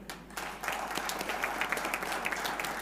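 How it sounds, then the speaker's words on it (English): An audience at a one-day polymer science and technology seminar applauds the poster competition teams, clapping that rises after a brief quiet start and then continues evenly at moderate volume in an indoor hall. "so big applause for them."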